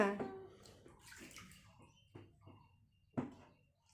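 Water splashes and pours in scattered bursts while a small child is bathed, with a few sharper slaps of water and quiet gaps between them.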